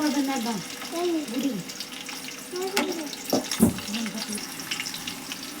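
Chopped onions hit hot oil in a pan while a chicken dum biryani is being prepared, giving a steady bubbling sizzle, with a few clinks and scrapes of a utensil and faint chirping sounds in the background.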